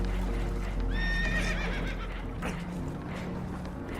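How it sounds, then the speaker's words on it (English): A spooked horse whinnies loudly with a rising, quavering neigh, amid a constant low rumble and scattered hoof clatter on a hard surface, aboard a boat taking on water. "Horses are spooked, and we're taking on water."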